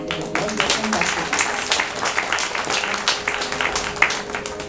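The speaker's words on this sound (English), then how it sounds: "Please welcome them with a very warm round of applause." An audience at a temple-room Krishna Janmashtami program claps steadily in welcome for a vocalist and violinist, a dense, even patter of many hands lasting several seconds with faint voices mixed in.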